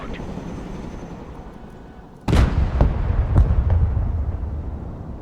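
In the Broken Arrow video game, an M1 Abrams tank gun fires on enemies with a sudden loud blast and a few follow-up booms and rumbles, after a quieter stretch of steady background noise.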